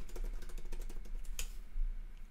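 Rapid clicking keystrokes on a computer keyboard, close and fairly quiet, tapping in a steady burst for a couple of seconds.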